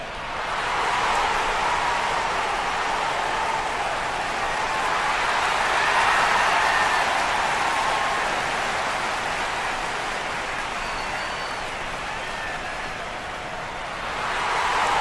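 Stadium crowd noise in AFL Evolution on PS4 as Collingwood and Richmond take the ground, a continuous roaring wash of distant cheering that swells and eases slightly over fifteen seconds, with no clear voice on top.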